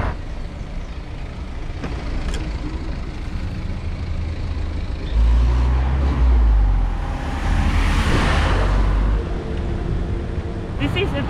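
Busy narrow road in Hong Kong with many trucks passing: steady traffic roar that swells as a heavy vehicle rumbles close by in the middle, with a hiss of air brakes, loud and continuous.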